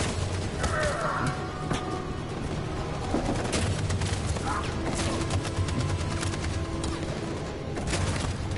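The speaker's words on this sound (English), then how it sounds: "That machine gun is taking down everything that moves." Sustained automatic machine-gun fire in the video game Detroit: Become Human, a dense, loud barrage of rapid shots mixed with booms and crashes throughout a chaotic battle scene.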